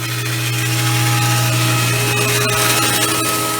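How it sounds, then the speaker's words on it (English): A wood planer running rough lumber for a seat produces a loud, steady mechanical drone with a sustained hum, continuing without a break. "This machine is called a planer, and it'll smooth out the faces of the lumber."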